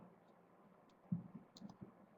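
Keyboard typing by a seminar participant, heard as a few faint, sparse clicks in a quiet room, no voices.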